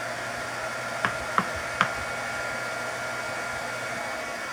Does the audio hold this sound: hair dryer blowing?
yes